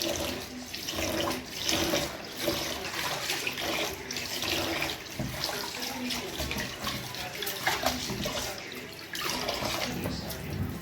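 Rice being washed by hand in water in a home kitchen, a steady run of sloshing and splashing with tap-like water flow throughout, close and fairly loud.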